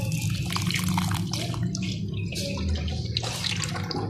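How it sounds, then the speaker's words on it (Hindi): Cold fridge water poured into fresh pomegranate juice in a blender jar, a soft steady splashing trickle of liquid lasting a few seconds. "ठंडा पानी, आम फ्रिज का जो ठंडा पानी ये इसमें शामिल करेंगे"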